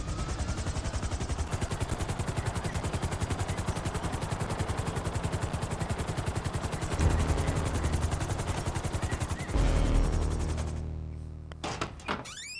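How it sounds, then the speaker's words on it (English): Helicopter in GTA V Online, a close, steady rotor chop with rapid rhythmic thumping throughout, growing heavier near the end before a few sharp thunks as it winds down. "now we can fly the helicopter back"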